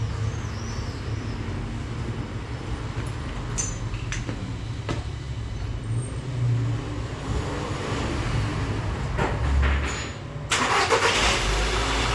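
A car engine turns over and idles right after an oil change, a steady low rumble filling the space nearby, with a louder surge toward the end.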